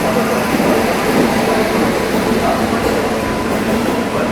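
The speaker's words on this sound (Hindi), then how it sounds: "चलिए डिपार्चर दिखाते हैं आप लोगों को इटारसी जंक्शन से।" Patliputra Superfast Express (12141) pulls out of Itarsi Junction with a continuous, loud rumble of wheels and coaches rolling close by, a dense steady roar with no clear breaks.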